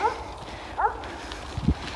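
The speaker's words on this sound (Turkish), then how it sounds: "Neden derseniz ciddi ciddi köpekler saldırmak üzere." A few short dog yelps and barks from dogs about to attack, heard from a little distance in a village, scattered across a couple of seconds over faint background noise.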